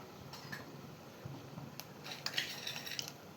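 Mustard seeds drop into hot oil in a pan while cooking lemon rice, giving faint scattered pops and light clicks that grow busier toward the end, with no voices.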